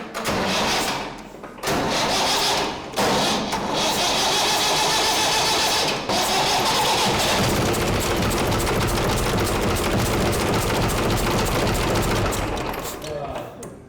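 A diesel engine on a P-70 pump cranks and starts after pump timing and air bleeding of the injection lines, a loud mechanical clatter broken by short pauses before settling into a continuous running rattle.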